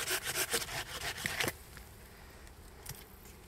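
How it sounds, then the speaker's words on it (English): Hand saw cutting through a wooden log outdoors, a run of rapid rasping strokes for about a second and a half, then a few faint scrapes as the cut finishes; close and fairly quiet. "I've sawn off this almost perfect log here"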